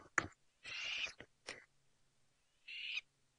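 Harsh, raspy bird calls burst out in several short squawks near their nests, fairly close, with quiet gaps between them.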